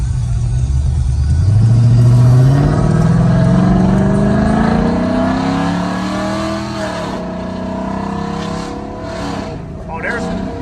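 A 2018 Chrysler 300S with a 5.7L Hemi V8 and heavy performance and engine modifications revs up loudly nearby, its deep rumble rising in pitch and then settling to a throaty idle, with people talking over it.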